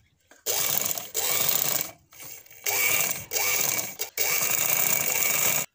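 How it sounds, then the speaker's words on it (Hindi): Domestic sewing machine stitching fabric along a pointed scalloped cut edge, in four or five loud bursts of rapid mechanical whirring separated by short pauses, close by and with no talk. "जिस तरह कटिंग है वैसे ही आप सिलाई लगाती जाएं, 1 पॉइंट छोड़ते हुए।"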